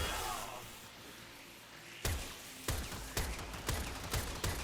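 Gunfire in a video game aimed at a Shock Eximus enemy's electric balls: a faint wash first, then a run of five or six sharp, moderately loud shots at uneven intervals.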